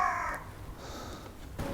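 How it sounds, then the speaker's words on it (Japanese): A crow caws once at the start, a loud nearby call that fades into a quiet outdoor background on a fishing trip. A second, fainter call comes at the end. "カラス。"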